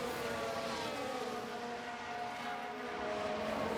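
Formula 1 race car engines, including a Ferrari power unit, drone continuously at practice for the Miami Grand Prix in F1 Manager 2022, a steady faint layered whine with no talk over it.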